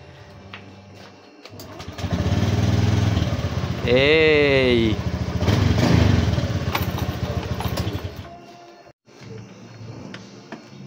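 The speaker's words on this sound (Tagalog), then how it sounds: "Kaya gumana na yung motor ni Bossing." A Honda Beat motorcycle engine, previously failing to start with no panel power and now repaired at the battery, runs loudly and steadily for about six seconds before cutting off, with a brief shout over it.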